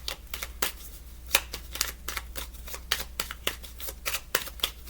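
Oracle chance cards are shuffled over and over, making a quick papery riffle with sharp flicks at an irregular beat. The sound is close and sits over a low steady hum.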